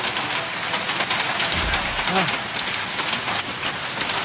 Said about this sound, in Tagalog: Nabot ng ulan, basang-basa ako.